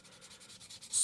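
Sandpaper rubs over a zinc die-cast Hot Wheels car body in short, quiet back-and-forth strokes, a soft rhythmic scratching heard close up, slightly louder at the end.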